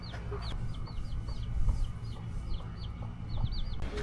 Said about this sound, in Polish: tu jest baby kurczak, jaki śliczny